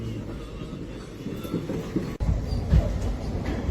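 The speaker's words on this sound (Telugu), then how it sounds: "గుంటూరు జంక్షన్ రైల్వే స్టేషన్ లోపలికి అయితే ఎంటర్ అవుతుంది" A train rolls into Guntur Junction railway station, its wheels and carriages rumbling loud and close with a heavy low clatter and a sharp jolt midway.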